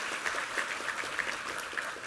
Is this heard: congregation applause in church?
yes